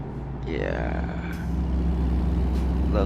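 A truck engine rumbles steadily in a trucking video game while a voice talks over it. A warbling whistle-like tone rises and falls through the middle, and the engine grows slightly louder toward the end.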